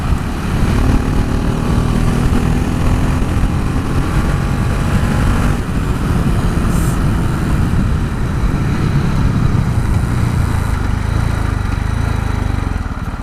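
A KTM Duke 690 R motorcycle engine pulls hard under acceleration, a loud, close, continuous rumbling roar with wind buffeting, holding steady as revs climb and the tone shifts.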